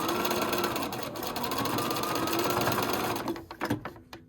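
A sewing machine runs a steady, fast stitch along a wrap dress hem, loud and close, then slows into a few short bursts while backstitching at the end.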